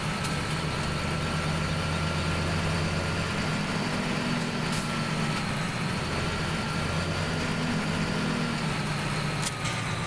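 Farming Simulator 17 tractor fitted with Kuhn equipment idles steadily, a low constant engine drone with a faint whine above it, unbroken for the full stretch with no voices.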